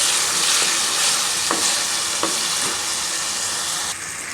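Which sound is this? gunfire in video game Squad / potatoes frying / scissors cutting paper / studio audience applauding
potatoes frying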